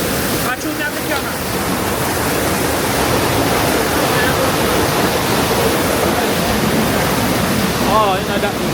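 Cane River Falls, a waterfall in Jamaica, roars as a dense, steady rush of water close by, unbroken for the whole stretch, with faint voices now and then.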